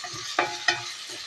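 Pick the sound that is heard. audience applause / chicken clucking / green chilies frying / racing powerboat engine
green chilies frying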